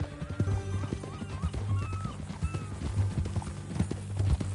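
Rhythmic horse hooves clip-clop steadily in Red Dead Redemption 2, close and moderately loud, with a faint whinny and a little talk in the background.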